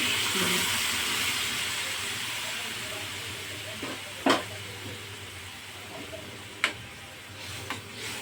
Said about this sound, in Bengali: তো জল দেওয়া হয়ে গেছে